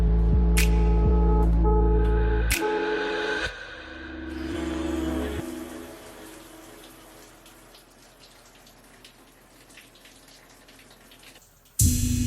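Shower water streams down onto a body, a steady splashing hiss that swells and fades as the spray shifts, with a couple of sharp knocks and a louder burst right at the end.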